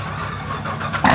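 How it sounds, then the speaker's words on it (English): A tuned Corvette C7 Z06 with aftermarket cams rumbles at a deep, loud idle, then surges into a sudden harsh rev at the very end of the short burst, heard up close without speech. "And Wally has this C7 Z06 here that he just finished tuning and adding cams and all that."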